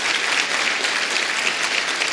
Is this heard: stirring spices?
no